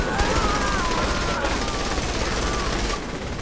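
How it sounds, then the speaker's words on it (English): A fully upgraded assault rifle in Saints Row 3 fires in a continuous, loud, rapid stream across the whole span, with a faint voice underneath. "this is the assault rifle fully upgraded, bro"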